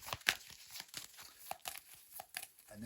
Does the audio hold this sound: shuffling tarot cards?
yes